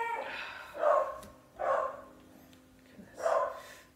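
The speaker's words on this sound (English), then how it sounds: "That was my dog barking." A dog barks indoors three times in spaced bursts, each bark close and fairly loud, with no one talking.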